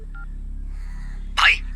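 A phone gives short electronic signal tones for an incoming second call in a Hindi-dubbed South Indian action film, followed by a brief sharp burst, heard close over a low steady hum.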